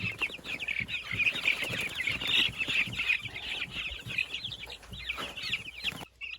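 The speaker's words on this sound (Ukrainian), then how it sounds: "Знову курчата трошки, трішечки лякаються, не страшно, не страшно." Young chicks in a cage chirp in a dense, continuous chorus of high peeping calls, many overlapping and close, with a short quiet gap near the end and no talking.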